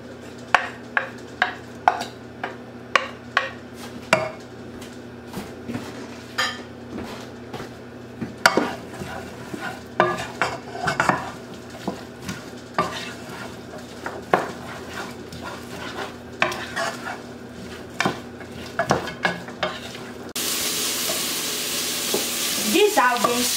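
Vegetables for corn chowder sauté in a pot, with frequent spoon knocks and scrapes against the metal over a soft sizzle; the frying grows louder and hissier near the end, close up with no talk.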